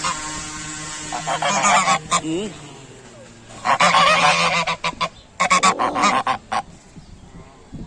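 Several geese honk loudly and close by at a zoo in Iştip, in irregular bursts, with a brief pause in the middle and a murmured voice early on.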